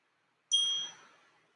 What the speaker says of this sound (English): follow the sound of the bell and close our eyes.